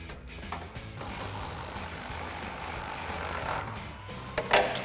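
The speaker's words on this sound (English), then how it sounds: "we're gonna grab our ratchet, extension, and 10mm socket and our bolt and tighten that down" A hand ratchet with an extension and 10mm socket tightens a bolt on a Silverado's lower grill, giving a run of rapid close clicking that builds toward a couple of louder knocks at the end.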